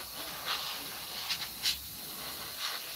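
An airbrush blows plain air over freshly sprayed paint on a scale model, a faint steady hiss broken by a few brief sharper puffs of air.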